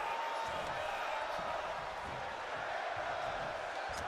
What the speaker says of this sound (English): I don't even know what the crowd is saying.